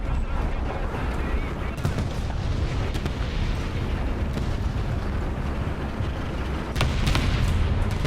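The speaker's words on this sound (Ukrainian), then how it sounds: "сюда буду сейчас арта лупить" Booming artillery strikes and gunfire in the War Thunder video game, a dense, continuous barrage of loud explosions with sharper blasts near the end, under faint talk.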